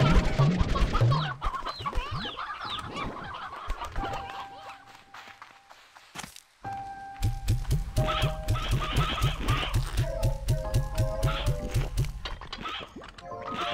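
Rocky hens in the video game Slime Rancher 2 keep up a steady run of repeated clucks and clip-clop steps, alone after a brief quiet gap, against layered game sounds.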